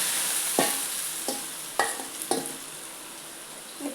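Leftover dal frying in a pan and stirred for a dry lentil dish, with a steady sizzle under four sharp scrapes of the spoon against the pan at irregular intervals, close and clear, with no talking.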